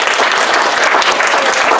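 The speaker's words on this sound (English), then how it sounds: "let's give them a round of applause" Sustained applause from a church congregation honoring council members, dense steady clapping filling the room at close range with no one speaking over it.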